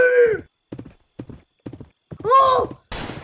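A horse in the Roblox Westbound video game whinnies loudly, then a run of clip-clopping hoof thuds follows, a second whinny comes, and a sharp noisy burst closes the sequence.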